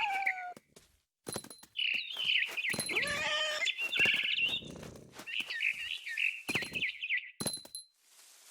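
A barn swallow in the video game What Remains of Edith Finch chirps and twitters in quick, high, warbling bursts, close and clear, with short pauses between phrases.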